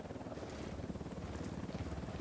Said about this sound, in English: Oh shit, there's a helicopter.